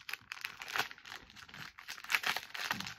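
Paper crinkles and rustles up close in irregular bursts as an item from a shopping haul is unwrapped, with no voices.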